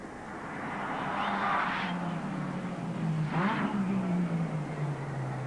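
Race cars roar past on a track, engines swelling as two machines sweep by in turn, the second a wild-looking car with lots of grunt, loud and close with a continuous drone between passes.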